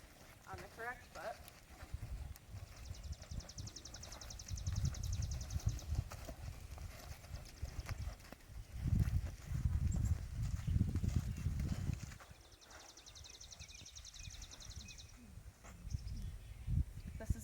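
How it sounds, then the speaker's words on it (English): A trained show horse's hooves step and shuffle on the ground during a showmanship pivot, giving soft irregular thuds and clops while a person talks over them throughout. "Now I'm going to show you the pivot of a trained horse on the correct foot."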